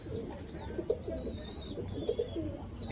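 Teddy pigeons in a loft coo softly, with repeated low, throaty coos close by and a few thin chirps in the background.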